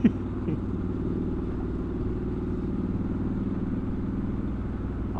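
Triumph Scrambler 1200XE motorcycle riding along with a steady, close, mid-pitched engine drone and a faint tick at the start, no talking over it.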